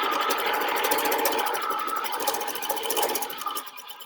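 A sewing machine stitches a fabric face mask, its steady mechanical whirr running continuously at close range with a fast, even rhythm and no talk.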